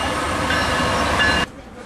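An Amtrak Midwest passenger train arrives at the Galesburg, Illinois rail yard as a loud, steady rumble with hissing and rail noise, which cuts off abruptly near the end.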